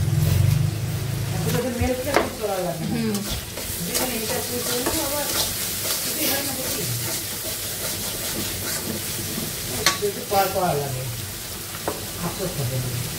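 Spice paste frying in oil in a pan for a green chili curry, scraped and stirred with a spatula in steady strokes under a constant close sizzle, with occasional speech mixed in.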